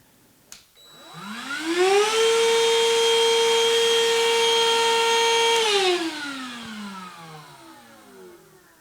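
A Black & Decker 20-volt lithium Pivot handheld vacuum clicks on, whines up to a steady high-pitched motor drone for several seconds, then switches off and spins down.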